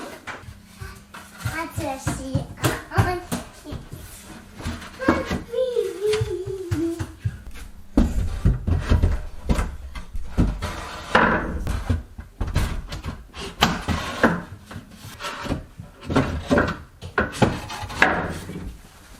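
Raw wooden closet shelves are set into place with a run of hollow wooden knocks, bumps and clatters at close range, some sharp and some dull, while a voice is heard in the first part.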